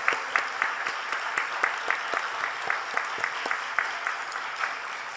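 Congregation applauding in a church 39th anniversary worship service, many hands clapping in a dense, lively burst. Some sharp claps stand out close by. It runs for about five seconds with no speech.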